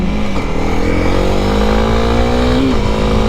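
Yamaha R7 sport motorcycle passing by on a road, its engine note rising in a steady revving whine that sweeps up and then dips, fairly close, over the rider's own engine and wind noise.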